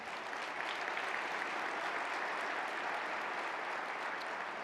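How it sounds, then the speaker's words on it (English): A dense, even wash of audience applause at an International Franchise Association State of the Association address, sustained at a steady level throughout with no talking over it. "Let's give him a round of applause."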